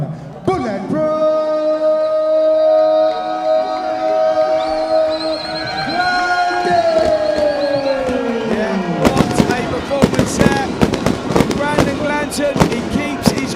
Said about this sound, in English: The fireworks go off above us here in Lagos, Nigeria